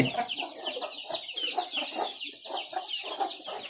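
Chickens cluck over and over at a village coop in rural Isan at dusk, a dense chorus of short overlapping calls, close and steady, with faint rustling beneath.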